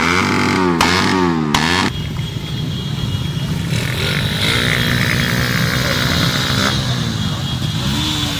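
A row of motorcycles revs loud exhaust pipes together at a Christmas party mini motor show, a dense, roaring blast with rising and falling throttle bursts that stays loud throughout.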